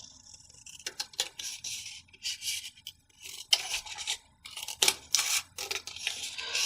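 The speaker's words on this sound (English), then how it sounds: "I'm going to cut this in half." Scissors snip through a paper craft piece to cut it in half, a close, steady series of crisp cutting strokes and light paper rustles in quick uneven bursts, with no talking.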